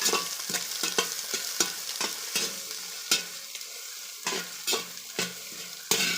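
Vegetables with salt are stir-fried in a pan for chicken fried rice, a close sizzle punctuated by a rhythmic series of scraping, tossing strokes of the spatula, with no voices.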